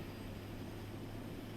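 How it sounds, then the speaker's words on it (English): A naval helicopter lifts off in the naval warfare game Sea Power, a steady, faint engine and rotor drone with a constant low hum and no distinct changes. "Get this chopper up."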